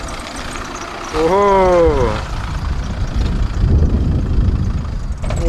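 A modified 2001 Citroën C5 with a 2.0 HDI 109 hp diesel engine rolls up with its engine running, a steady low rumble throughout while a voice calls out and sings briefly over it near the start.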